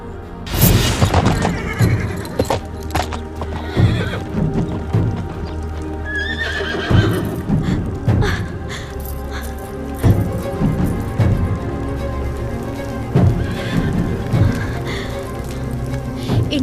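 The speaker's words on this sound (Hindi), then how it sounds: "इनका घोड़ा यही है" A horse whinnies and neighs repeatedly while its hooves clip-clop steadily close by, loud and clear with no talk over it, the calls standing out against the rhythmic hoofbeats.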